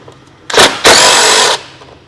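A power tool whirs in two short, loud, close bursts, a brief spin followed by a longer one of under a second, while removing bolts from a Kia Sedona engine.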